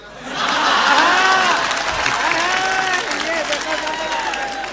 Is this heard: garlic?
no